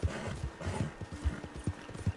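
A horse walks at an easy pace in Red Dead Redemption 2, its hooves clopping in a steady, unhurried rhythm, fairly quiet and close with no talking over it.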